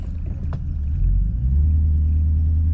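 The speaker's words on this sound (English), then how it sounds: "should I give it a little rev?" A Mazda RX-8 engine idles with a low rumble, then revs up briefly and holds at a higher, louder drone; its lifters are dry of oil.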